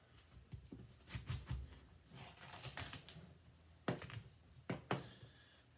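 A knife splits a watermelon in half: a quiet series of crisp cuts and thumps, with two sharper knocks near the end, close and isolated in a still room.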